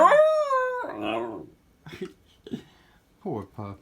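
A dog whines in a high, wavering cry, followed by a few shorter whimpers, with a voice speaking softly near the end.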